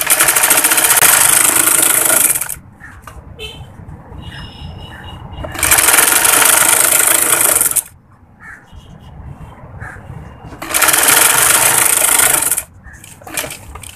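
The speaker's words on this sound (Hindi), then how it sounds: "इस तरह से प्लेट को उठा के सिलाई लगाते जाएंगे।" A sewing machine stitching pleats on a kameez runs in loud bursts of rapid mechanical whirring, three stretches of stitching separated by quieter pauses with faint background sounds.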